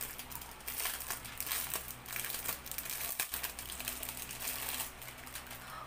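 Plastic packaging around an oval silicone pouch crinkles and rustles continuously at close range as it is opened, with small crackles and soft crumpling throughout and no talk.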